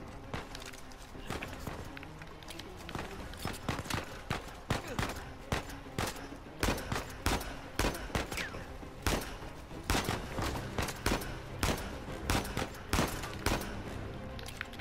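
Gunfire in the video game Uncharted 4 on hard difficulty comes as a dense run of sharp shots and thuds, thickening into rapid bursts through the second half, with little talk.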